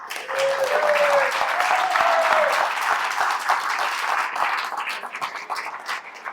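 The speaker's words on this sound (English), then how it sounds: "Can you please give him a round of applause?" Audience applause for a councillor at a political movement meeting, a steady wash of clapping with a brief voice at the start, tapering slightly toward the end.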